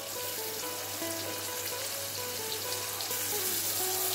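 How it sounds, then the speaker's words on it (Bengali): Chopped tomato and capsicum fry in oil with ginger for chilli paneer, a steady loud sizzle filling the whole stretch with a low hum beneath and no talk. "এইবার টমেটো কুচি দিয়ে একসাথে ভাজা হবে।"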